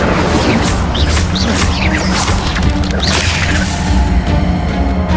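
A fire spell goes off in Hogwarts Legacy with a loud, dense rushing blast and crackling whooshes, a continuous roaring burst layered with sharp bright flickers over booming game effects.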